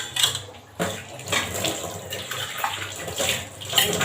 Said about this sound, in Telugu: నేను కొంచెం వాటర్ వేస్తాను